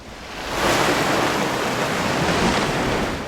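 Loud, broad rushing water swells in and holds steady as waves wash in a painterly video game world, with no speech over it.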